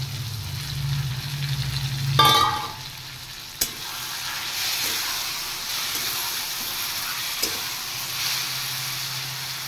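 Fried prawns go into a hot cooking pan, giving a brief burst of sizzle. A loud, steady frying hiss and spatter follows, close up, with no talking.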